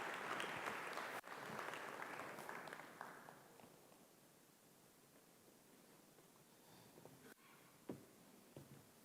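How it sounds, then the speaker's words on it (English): Conference audience applauding as guests walk to the stage, a loud burst of clapping that gradually fades over several seconds, leaving scattered claps and faint rustling toward the end. "Please give them a very warm round of applause as they make their way to the stage."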